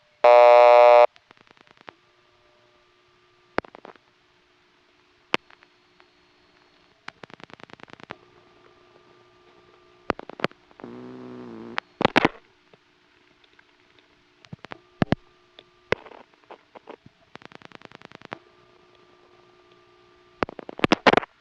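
Tones and clicks on a 1978 Florida Siemens motor telephone switch with an N3 carrier trunk, heard as a loud opening tone, then scattered clicks, pulsed bursts and faint hum across a sparse, quiet line.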